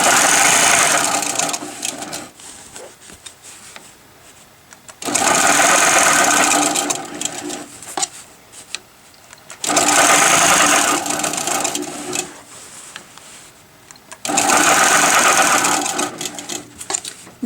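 A longarm quilting machine stitches a zigzag quilt border, its steady mechanical whir running in four loud bursts separated by quieter stretches of lower machine hum.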